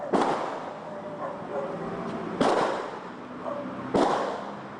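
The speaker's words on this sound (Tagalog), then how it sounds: "Ilang minutong tumagal ang palitan ng putok ng baril." Three sharp cracks ring out at irregular intervals over a noisy background, like distant gunshots traded back and forth in a shootout between police and a suspect.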